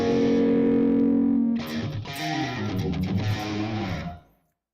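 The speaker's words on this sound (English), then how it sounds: "if you'll excuse my playing, I promise the guitar sounds great" A Balaguer electric guitar with an alder body and a 5-way switch is played through heavy distortion: a held, droning chord, then a quick run of gritty riffs that cuts off abruptly, loud and alone.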